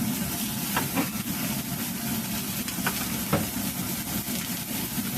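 Long sausages sizzle and fry in a hot wok, a steady broadband hiss with occasional sharper crackles and spits, close and continuous without talk.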